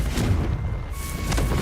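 The Confringo fire spell exploding in the video game Hogwarts Legacy, a broad booming burst that swells, dips briefly and surges again, heard alone without talk.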